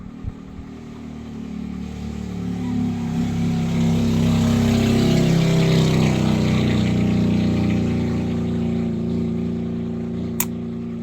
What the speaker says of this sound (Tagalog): Grabe yung mga motora guys.